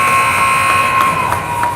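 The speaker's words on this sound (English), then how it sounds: "but the buzzer goes" A loud, sustained electronic buzzer ends the second period of a youth U11 hockey game in an arena, a steady harsh tone over faint crowd noise with a few small bumps.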